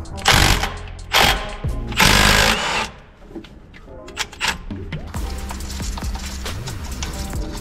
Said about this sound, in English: Now I'm going to try to remove the crankshaft bolt.